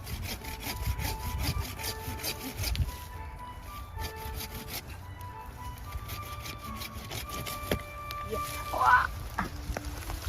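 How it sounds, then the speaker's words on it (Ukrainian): A saw cutting through the trunk of a Christmas tree at a tree farm in Canada, rhythmic back-and-forth rasping strokes up close, with brief voices nearby. "Ох, пила мощно."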